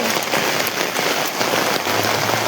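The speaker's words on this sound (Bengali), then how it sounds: "আর এখানে যা বৃষ্টি দিয়েছে" Heavy rain pours steadily in a dense, even hiss of drops striking the ground and nearby surfaces, loud and close, with no voices.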